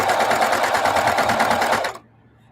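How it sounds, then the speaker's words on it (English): A sewing machine with a walking foot stitching a quilt, running at a rapid, steady rhythmic chatter up close for about two seconds before stopping abruptly. "So I'm just stitching along my merry way."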